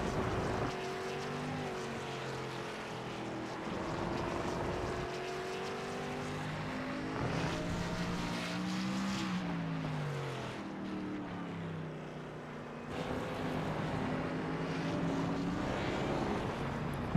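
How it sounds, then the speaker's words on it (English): Xfinity Series race car engine on track at Mobility Resort Motegi, the driver feathering the throttle, its pitch rising and falling steadily in a loud continuous drone with no talk. "you can hear Plout there really feathering the throttle"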